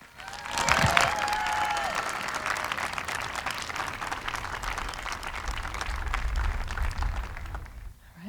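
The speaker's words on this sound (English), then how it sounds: "One final round of applause for them." An outdoor crowd at an 8th grade school moving-on ceremony applauds in a sustained burst of clapping that holds steady for several seconds, with a brief whistle or cheer near the start, before fading out.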